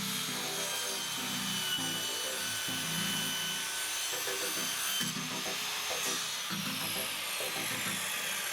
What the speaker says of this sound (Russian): Теперь при помощи торцовочной пилы или при помощи обычного стусла отрезаем